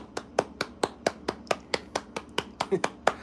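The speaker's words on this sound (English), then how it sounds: "Everybody give her a round of applause." Sparse, evenly spaced claps ring out, one pair of hands clapping at a steady rhythm, close and fairly loud, with no voices.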